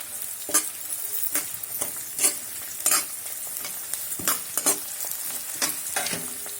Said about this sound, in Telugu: కరివేపాకు కూడా వేసి ఇది బాగా వేగే వరకు వేపాలి.